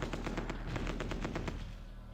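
Rapid bursts of gunfire strike air force units in the strategy game Supreme Ruler Ultimate during an assault on Ankara, a loud, dense rattle of repeated shots for about two seconds that then fades.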